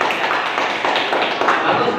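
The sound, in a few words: applause for a group in class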